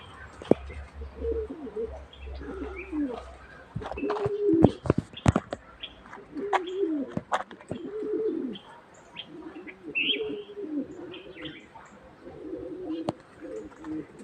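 Pigeons coo repeatedly in soft rounded phrases, with a few sharp chirps and clicks scattered through, fairly close by.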